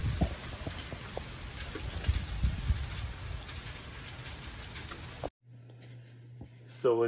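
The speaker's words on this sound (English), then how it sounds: "So it is still raining." Steady rain falls outside a window on a wet evening, a dense hiss with scattered drop taps for about five seconds before it cuts off abruptly into near quiet.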